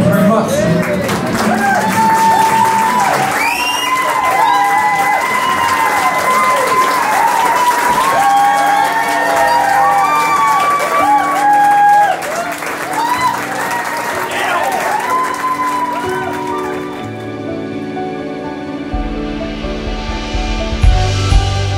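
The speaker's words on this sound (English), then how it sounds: "Can everybody please be upstanding with a big round of applause for the new Mr. and Mrs." Wedding guests applaud and cheer the newly married Mr. and Mrs. Botham, Warwick and Emily, with steady, loud clapping throughout and voices and music mixed in, easing toward the end.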